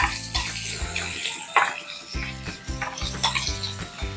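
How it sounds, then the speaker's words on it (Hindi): Mustard seeds crackle in hot oil, sizzling steadily with popping bursts and a clatter of utensils against a pan throughout. "जैसे ही राई चटकना शुरू हो जाए डाल दें हींग"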